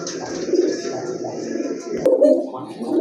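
A pair of short-face pigeons in almond and yellow-almond colouring coo repeatedly at close range, with steady low warbling and someone talking over them throughout.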